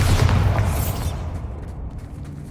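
A Bombarda spell explodes in the Hogwarts Legacy video game: a loud, close blast with a heavy low boom that fades into a rumbling decay over about two seconds.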